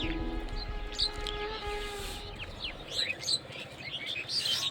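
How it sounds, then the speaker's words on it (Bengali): Birds in a tree on a cold winter morning give off bright, scattered chirps and tweets at middling distance over a soft steady background hum. "পাখির সুন্দর কিচিরমিচির আওয়াজ এই গাছে।"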